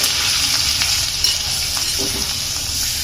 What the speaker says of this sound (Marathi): कारल्या घातल्यानंतर याला आपण छान पैकी तेलामध्ये हाय फ्लेमवरती आपल्याला हे एक ते दोन मिनिट छान मस्तपैकी आपल्याला हे फ्राय करून घ्यायचे आहे